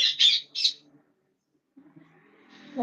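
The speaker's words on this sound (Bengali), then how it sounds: "ওইদিকে আমার সাইডে মিঠুরা মিঠু মিঠু করে ডাকছে" Pet parrots calling: three quick, bright squawks close by, a short silence, then softer chirps and a rising call at the end.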